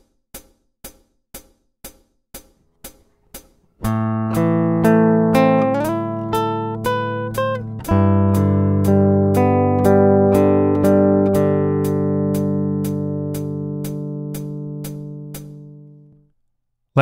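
Fingerstyle guitar playing the opening two bars of a piece, preceded by a steady series of metronome-like clicks, then picked notes ringing together in a flowing pattern and fading out at the end.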